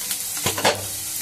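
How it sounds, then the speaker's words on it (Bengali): Potatoes fry in oil in a pan for a pointed gourd, potato and egg curry, giving a brief close sizzle broken by a couple of stirring scrapes. "আলুগুলো ঠিক ভাজা হচ্ছে কিনা"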